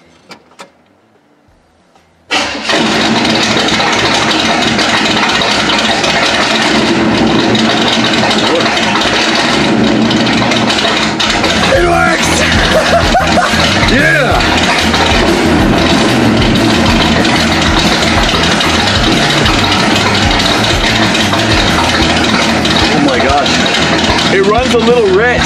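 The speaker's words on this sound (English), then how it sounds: "A little rich and the idle's a tiny bit off, but other than that, I just gotta tune it and I'll be set." A hot rod's engine with a newly switched carburetor cranks and catches, then settles into a loud, running idle that stays rough and steady, close by, with a person talking over it.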